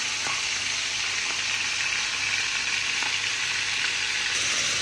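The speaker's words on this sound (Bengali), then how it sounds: "চিংড়ি কিন্তু খুব বেশিক্ষণ ভাজা লাগে না" Giant freshwater prawns fry in hot oil, a steady, even sizzle heard close and fairly loud throughout, with a few faint taps and no talking.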